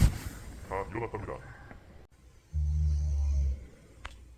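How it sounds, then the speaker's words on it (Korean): A person snores, with a loud, rough, low-pitched snore lasting about a second near the end, after a short stretch of breathy noise and brief vocal sounds at the start. "지금 코골이 4일차예요."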